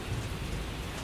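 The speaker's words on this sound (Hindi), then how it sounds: "बारिश अब और तेज हो चुकी थी।" Heavy rain pours steadily on a dark stormy night, a dense, continuous hiss and patter of drops with a low rumble underneath, loud and close, with no voices.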